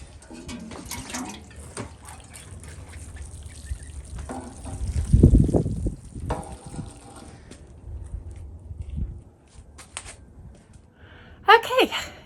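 Water is poured onto newly planted bare-root clematis and peony in backfilled soil and plant-tone mix, a splashing burst in the middle of the clip amid quieter handling noises, with a voice speaking at times.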